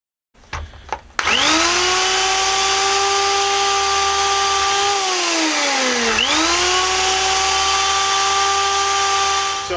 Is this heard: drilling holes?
yes